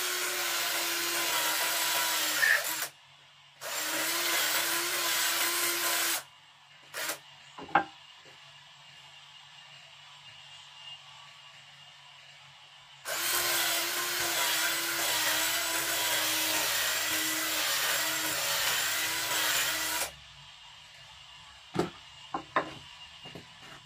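A power tool whines loudly in bursts while widening hinge holes, starting and stopping several times, with short clunks and handling noises in the pauses.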